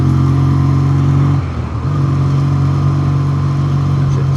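Steady mid-pitched engine drone of a 1962 Triumph Tiger 90 motorcycle being ridden at an even pace, loud and close, with a brief dip as the throttle eases before it settles again.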